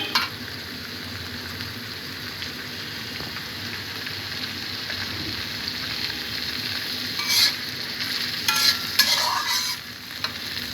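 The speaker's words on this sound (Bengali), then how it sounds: "ভেজে রাখা পেঁয়াজের মধ্যে আমি বেগুনগুলাকে দিয়ে একটু বেগুনগুলাকে নেড়ে চেড়ে একটু ভেজে নিব" Eggplant pieces stirred and frying in a pan with previously fried onions, a steady close sizzle with scraping stir strokes and louder bursts near the end, no voices.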